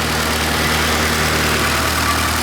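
A 1985.5 Pininfarina Spidereuropa engine idles steadily after a cold start, a close, constant low rumble with a faint electric cooling fan whirring beneath it and no voices.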